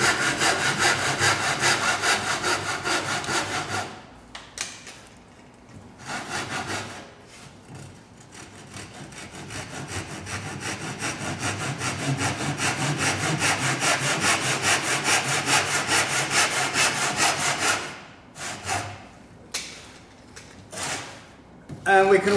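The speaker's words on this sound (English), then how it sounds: "With our tenon saw, we can now cut across those lines down to halfway." A tenon saw cuts across marked lines in wood for a dovetail halving joint, with long runs of steady back-and-forth rasping strokes broken by short pauses, close and fairly loud.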